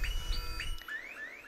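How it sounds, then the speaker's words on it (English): Repeated rising electronic chirps sweep upward in quick succession at moderate volume, a PS5 stock drop alert alarm, with a low rumbling noise underneath for the first half. "we heard this alarm as well"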